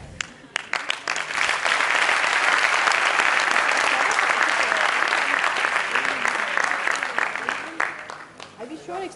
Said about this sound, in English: put your hands together and cheer for the participants